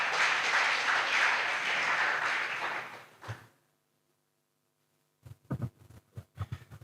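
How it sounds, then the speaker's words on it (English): Audience applause for a speaker being introduced at a youth summit: a dense, loud wash of clapping for about three seconds that cuts off, followed after a pause by a few scattered, separate claps. "Applause for him."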